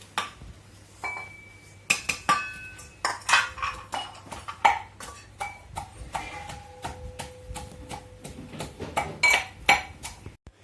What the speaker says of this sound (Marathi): मी ना हे पीठ सगळं मिक्स करून घेते एका पातेल्यामध्ये